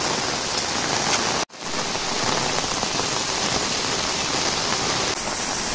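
A torrential monsoon downpour in Konkan roars close and continuous, its broadband hiss briefly cut by a momentary dropout before carrying on unchanged.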